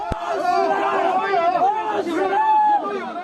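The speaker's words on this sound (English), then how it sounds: "It shows local police trying to contain a crowd of people" A crowd of people held back by police in Shanghai during a strict COVID lockdown, a dense mass of overlapping voices and raised shouts close by, filling the whole moment.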